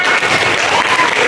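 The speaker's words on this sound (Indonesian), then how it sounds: "Terima kasih. Tepuk tangan." Classroom audience applauding after a poetry reading, a short burst of dense, continuous clapping that fills the room, loud and close with no voices over it.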